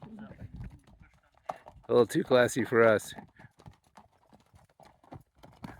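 Horses walking a hiking trail in Bryce Canyon, a brief run of crisp hoof clip-clops close by for about a second, with people talking before and after.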